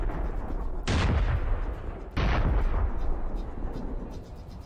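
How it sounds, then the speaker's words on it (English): HIMARS missiles strike self-propelled howitzers in a war setting, two heavy booming explosions about a second apart, each with a rumbling tail, over a continuous noisy background. "You can see the Himars missiles landing on them from the sky."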